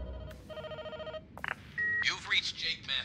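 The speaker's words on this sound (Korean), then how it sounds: "전화벨." A telephone bell rings in the puzzle video game Spectrum Retreat, a repeated electronic ringing pattern followed by a voice speaking over electronic tones.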